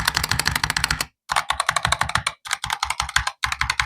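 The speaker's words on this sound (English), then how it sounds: "the sound from this keyboard is satisfying" Rapid bursts of typing on a Razer Huntsman V3 Pro keyboard, crisp close clicking keystrokes in quick runs separated by short pauses, with no voices.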